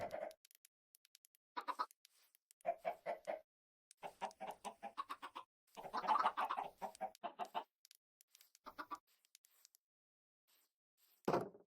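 Minecraft chickens cluck in short repeated bursts separated by silent gaps, clear and close, with a brief louder flurry near the middle and one last cluck at the end.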